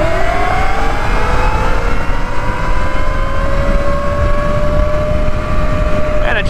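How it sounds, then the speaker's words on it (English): A Talaria Sting MX5 electric dirt bike with a Nucular P24F controller makes a top speed run, its motor whine rising steadily in pitch over loud, constant wind rush close to the microphone. "Time for the top speed run on the Nucular bike."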